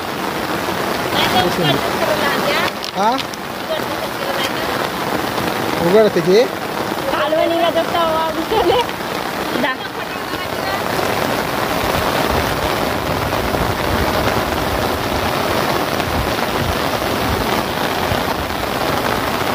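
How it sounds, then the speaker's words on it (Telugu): Heavy rain pours down steadily, a dense broadband hiss throughout, with a person speaking briefly over it near the start. "చూడ ఎంతగా వస్తుంది వర్షం బాగానే వస్తుంది కదా"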